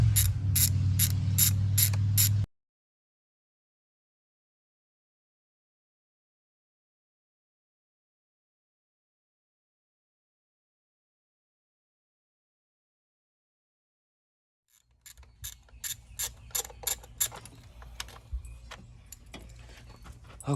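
A ratchet wrench loosens valve cover bolts on a BMW N55 engine, giving quick bursts of sharp clicking at the start, a long silence, then another run of close, rapid ratcheting clicks.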